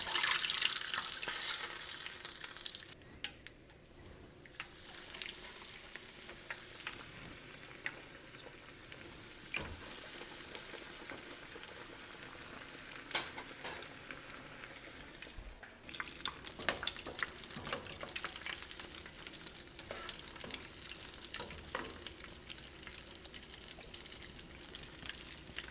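Leftover mac and cheese bites fry in hot oil, a soft continuous bubbling sizzle with occasional light clicks and scrapes, fairly quiet and close, with no talking.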